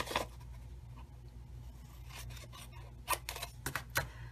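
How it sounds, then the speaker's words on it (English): Paper card stock snipped with scissors down the center line of an envelope flap, a few crisp, close cuts with short pauses between them in a quiet room. "you cut on the flap right down that center line"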